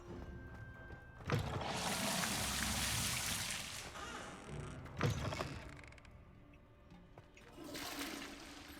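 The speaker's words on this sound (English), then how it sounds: "I will flush every toilet." A toilet flushes in the video game Hogwarts Legacy, a rushing swirl of water that surges, fades and surges again with a second flush, then trickles away amid faint room ambience.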